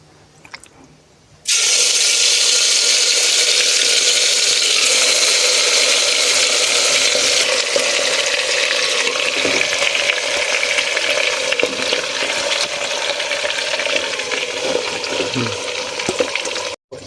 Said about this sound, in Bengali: হান্ডিতে তেল কিন্তু গরম হয়ে গেছে একদম এই যে গরম হয়ে গেছে এতে কিন্তু মাংসটা আমি অ্যাড করবো